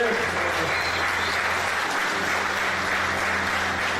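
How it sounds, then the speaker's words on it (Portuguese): A church congregation claps together in a steady, sustained wash of applause that holds at an even level throughout, with faint murmurs of voices mixed in. "Você pode aplaudir o Senhor por isso?"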